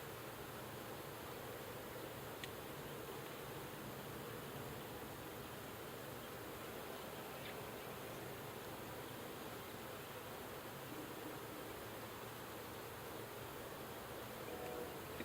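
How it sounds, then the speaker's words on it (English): Honeybees in the brood nest of an open horizontal hive, giving a steady, dense buzzing hum that holds evenly throughout, close and continuous with no talking. "You have a lot of good looking bees here."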